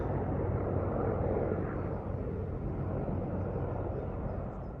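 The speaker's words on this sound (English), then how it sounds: "a little braking the action with the flyover with some Apache helicopters." Steady, loud rumbling drone of Apache helicopters passing overhead, broadband and continuous with a slight fade toward the end.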